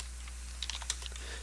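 Computer keyboard typing a short terminal command, a quick burst of several soft, close key clicks over a steady low hum.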